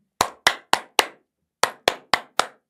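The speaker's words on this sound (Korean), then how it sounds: "2900포인트 안착한 부분 우리 박수 한번 쳐볼게요" A single person claps in two bursts of four sharp, evenly spaced claps separated by a short pause, close and crisp in a quiet room with no talk.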